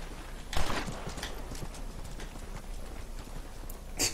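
A horse's hooves clip-clop in the Red Dead Redemption video game, faint and sparse, with a few soft hoof strikes spaced irregularly over quiet background ambience.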